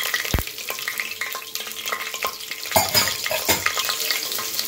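Fennel seeds and three broken green chillies fry in oil in a pressure cooker for tomato rice, giving a steady close sizzle punctuated by sharp stirring scrapes and knocks against the pot.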